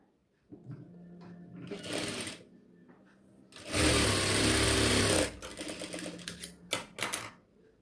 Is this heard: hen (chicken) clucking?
no